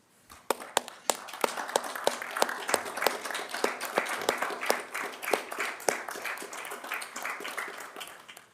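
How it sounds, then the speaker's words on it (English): Applause breaks out at a city council meeting, a steady wash of many hands clapping with sharp individual claps standing out, sustained at a moderate level throughout. "I think we'll round of applause."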